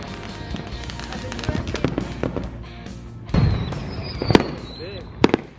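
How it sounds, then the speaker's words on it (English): Fireworks crackle and pop during a 4th of July night in Los Angeles, with scattered sharp bursts and a couple of louder booms near the end, while people talk nearby. "Look at all the fireworks."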